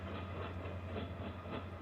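A train passes on nearby rails with a steady low rumble and faint rhythmic clicking of the wheels, heard continuously at moderate volume.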